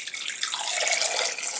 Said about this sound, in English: Just have these potatoes and I'm going to pour cold water in them